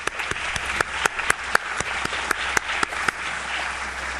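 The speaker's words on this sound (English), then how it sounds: "please join me in offering applause" An audience at a science and math education event in Texas applauding, a dense, steady burst of many hands clapping with a few sharper claps standing out.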